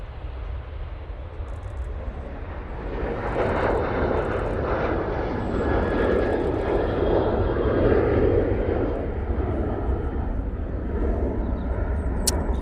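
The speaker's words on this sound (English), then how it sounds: "Ryanair 737-800 now on the roll." A Ryanair Boeing 737-800 jet rolls for takeoff at Manchester Airport, its engine roar building from a steady rumble into a loud, sustained broadband thrust noise that holds for the whole stretch.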